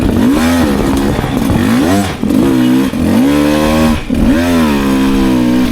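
Close, loud drone of a 2024 Beta 300 RR Race Edition two-stroke motorcycle pulling in third gear on trails, revs rising and falling in repeated surges with brief dips between pulls.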